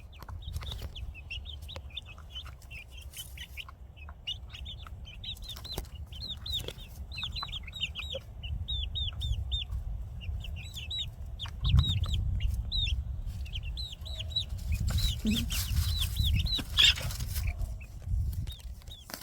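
Four-week-old chicks outdoors, some with feathered feet, cluck and peep in quick repeated bursts close by, with no talking and a steady low rumble of outdoor background beneath them.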